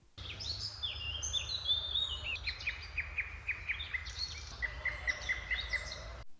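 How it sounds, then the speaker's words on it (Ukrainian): Several birds chirp and whistle in repeated short phrases over a soft outdoor background hum in a park in Odesa, clear and fairly close, with no voices. "навесні можна почути пташиний оркестр"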